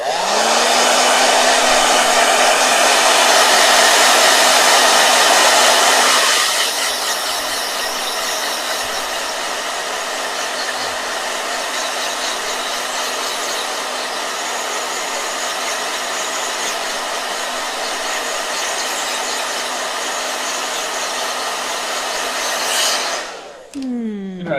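A blow dryer runs continuously and loudly up close as paint dries in a travel journal, its steady whir softening slightly after a few seconds, then cutting off abruptly at the end.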